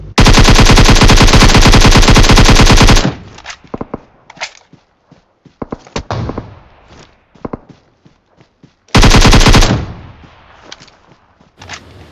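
Automatic gunfire in a shooter video game hammers out in two long, loud sustained bursts, with scattered footsteps and single shots in the quieter gap between them.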